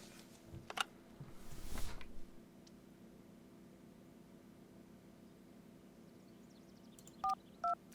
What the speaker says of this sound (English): No spróbujmy zadzwonić.